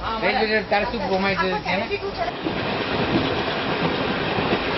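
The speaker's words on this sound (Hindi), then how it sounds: "मैं इस समय गरीब रथ ट्रेन में मौजूद हूं" A Garib Rath passenger train runs along the rails with a steady rumbling clatter of wheels on track. Voices chatter over it at first, then the train noise continues alone.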